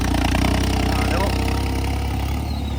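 A tractor engine runs steadily at close range during sowing in a field, one of a Mahindra and a New Holland 3630, making a continuous loaded drone with a low throbbing pulse throughout.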